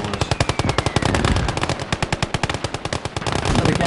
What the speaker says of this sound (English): the AI defences where their machine guns are just doing an outstanding job together with the mortar